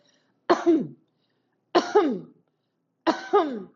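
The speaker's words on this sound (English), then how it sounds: "So try to cough a little bit." Three separate coughs, each followed by a short throat-clearing rasp, evenly spaced and close by, with silence between them, during a massage-gun session.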